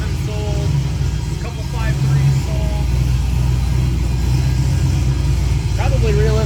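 A turbocharged LS7 V8 in a fourth-generation F-body car runs at a steady, rumbling idle with a low drone, nearby and continuous, with faint high whistles and chirps over the top.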